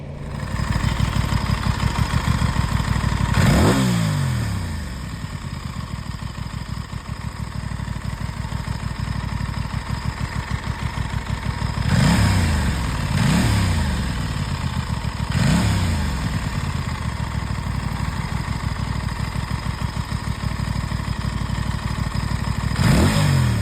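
A 2025 Aprilia Tuono 660 Factory motorcycle engine idles with a close, chugging rumble, broken by several sharp revs that rise and fall back to idle.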